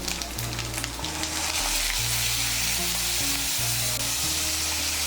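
Sizzling frying of turmeric and cumin powder in a pan as a splash of water goes in, a steady loud hiss with bubbling throughout, no voices.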